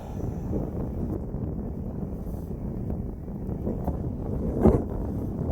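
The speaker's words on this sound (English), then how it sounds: "I apologize for the wind here in Oklahoma." Steady low buffeting of Oklahoma wind against the microphone outdoors, a constant rough rumble with a brief louder gust near the end.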